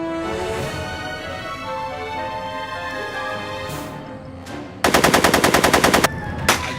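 Gunfire in Back to the Future: The Game, a rapid burst of repeated shots that cuts in sharply after a stretch of steady musical score, followed by one more short shot near the end.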